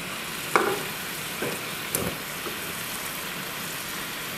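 Barbecue sauce of soy sauce, banana ketchup and brown sugar heats in a pan, giving a low, steady sizzle with a few soft clinks and stirring bumps, no voices.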